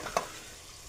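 Soybeans coated in salt, masala and turmeric dropped into a hot pan, a brief soft clatter followed by a faint, steady sizzle.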